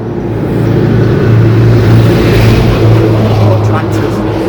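Trucks or tractors rumbling past on a country road near a bridge in Nottinghamshire, a loud, close engine drone that swells in the middle and fades slightly toward the end.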